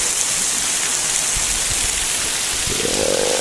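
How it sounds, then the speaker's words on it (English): Steady, dense rush of falling water and rain beneath the Emerald Pools waterfall in Zion National Park, a loud broadband hiss that fills the whole clip without pause. "It's raining. Now we're actually underneath a waterfall right here,"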